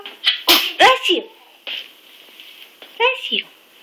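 A small sneeze is followed by soft, high vocal sounds, with a second short burst a few seconds later. The sounds are close and fairly loud.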